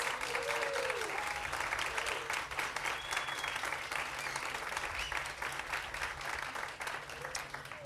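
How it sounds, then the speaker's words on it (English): Outdoor crowd of parents and guests clapping for standing students at an elementary school groundbreaking ceremony, continuous steady applause at moderate volume for the whole stretch. "Students, would you all please stand so we can give you a big round of applause."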